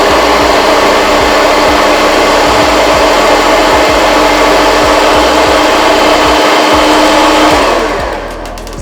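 Stand mixer beating chocolate cake batter, a loud continuous whirring drone held steady for most of the stretch before it begins to wind down near the end, with no voices over it.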